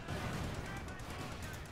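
Artillery barrage pounding a structure in Company of Heroes 2, a steady roar of overlapping blasts and rumble, loud and dense across the short stretch with game noise mixed in.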